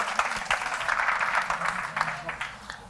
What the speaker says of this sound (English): And by the applause, it sounds like it resonates.